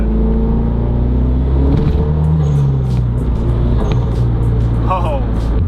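A Mazdaspeed 3 with a big turbo accelerates, engine droning with shifting tones and turbo whistle under someone talking close by, steady and loud throughout.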